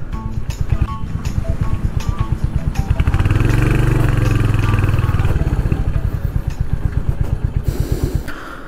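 A dapper white Royal Enfield Hunter 350 motorcycle runs close by with a loud, rhythmic single-cylinder thump that swells into a brief rev in the middle before settling back to a pulsing idle.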